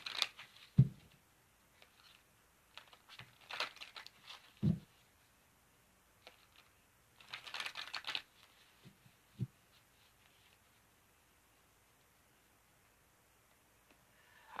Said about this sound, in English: I'll shuffle up the cards